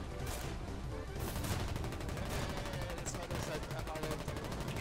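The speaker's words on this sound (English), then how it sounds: "I got hit by artillery." Artillery shells strike the player in an online multiplayer video game, a dense continuous barrage of gunfire and explosions that stays loud and steady throughout, with players talking faintly underneath.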